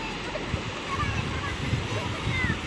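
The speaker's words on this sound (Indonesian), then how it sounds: "Nah, itu deburan ombaknya." Ocean surf rolls onto the shore at Pantai Ngudel, a clear-water beach at high tide, with a constant loud broadband wash of breaking waves.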